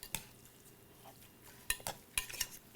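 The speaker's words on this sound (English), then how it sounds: "And we're just going to stir this up right here." A utensil stirs a herb mixture in a bowl for a roast chicken dish, giving quiet scraping with a few sharp clinks against the bowl, close and faint, with no talking.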